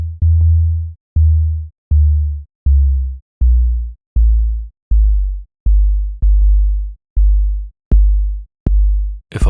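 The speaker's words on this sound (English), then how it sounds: "If a plain sine wave is too vanilla for you" A plain, pure sub-bass sine tone pulses in eleven evenly spaced, loud bursts, each with a soft click at its start and a short gap before the next, with no other sound present.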